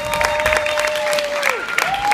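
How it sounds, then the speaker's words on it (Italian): Audience applause greets a band on stage at an Italian event, a dense wash of clapping with a steady pitched tone running beneath it before it bends downward. "Quindi un ulteriore applauso anche per questo."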